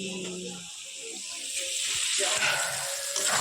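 Potato and soybean curry frying with spices in a home kitchen, a loud, dense sizzle and hiss that swells over the short stretch, with faint voice-like sounds low underneath.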